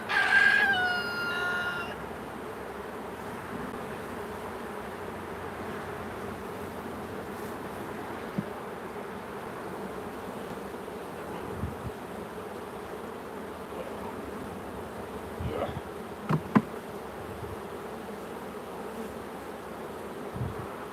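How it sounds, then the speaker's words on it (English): Honey bees hum in a steady, continuous drone close by while a beehive is opened and inspected for repairs, with a few light knocks and handling sounds scattered through. "We got nurse bees, I'll tell you that."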